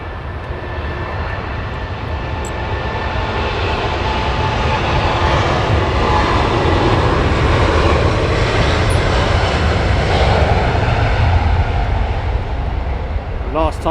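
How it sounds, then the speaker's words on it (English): A Virgin Atlantic Boeing 787 Dreamliner on its takeoff roll at Heathrow makes a sustained, loud jet engine roar that builds and holds throughout, a thick broadband rumble with a faint high whine near the end. "Virgin Dreamliner rolling"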